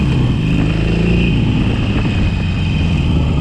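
A 2019 Harley-Davidson 883 Sportster V-twin running steadily with a loud, continuous low rumble and no obvious revving.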